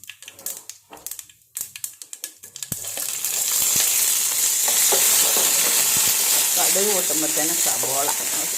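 Mustard seeds hit hot oil and break into a loud, dense crackling sizzle that holds steady for several seconds, after a few sharp taps and clatters. A voice is heard faintly toward the end.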